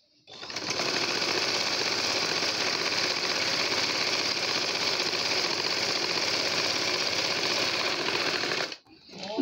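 A sewing machine runs steadily stitching the sleeve of a round baby frock, a fast even whirring chatter close by that starts abruptly and stops near the end.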